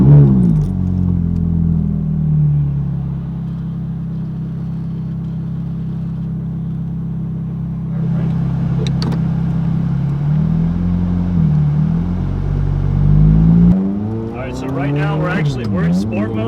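A Ferrari 430 Scuderia with a gated six-speed manual hums steadily at low revs, then climbs and rises in pitch as it pulls away and accelerates in sport mode, with brief clicks and rattles along the way.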